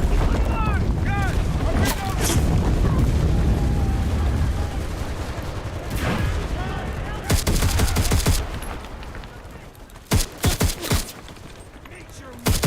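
Heavy battlefield gunfire in the World War II shooter Enlisted: dense rumbling fusillades and booms blend with shouted voices, followed by scattered sharp individual shots near the end.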